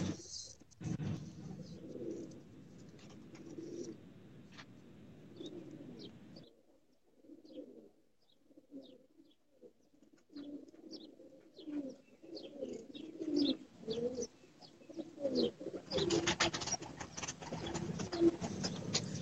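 Kasuri pigeons coo in repeated low, throaty bursts close by, with occasional chirps and rustling mixed in, and no voices.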